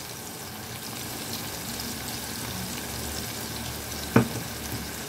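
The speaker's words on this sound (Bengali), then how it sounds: "এই মশলাটাকে আমি 2 মিনিটের মতো ভালো করে কষিয়ে নিয়েছি" Spice paste for a Bengali tengra fish curry sizzles steadily in a hot pan, a soft even frying hiss throughout, broken once by a sharp clink of a utensil near the end.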